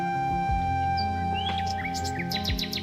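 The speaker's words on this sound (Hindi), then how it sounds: "तोता इतना कहकर वहां से उड़ जाता है।" An animated parrot chirps and calls in short bursts as it flies off, bright tweets rising over steady background music in a jungle cartoon.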